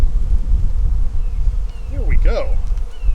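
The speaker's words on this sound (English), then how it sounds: "I've got bees all over me." Honey bees buzz close around a beekeeper at an open hive, a dense droning hum with individual bees whining past, while someone speaks briefly under the buzzing.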